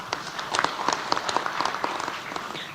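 Scattered, somewhat hesitant clapping from an audience at a university speech by Megawati, a handful of distinct claps standing out over a light wash of applause.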